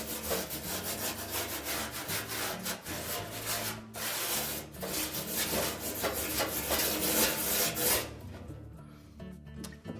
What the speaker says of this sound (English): we'll take a wire brush and just clean off the remainder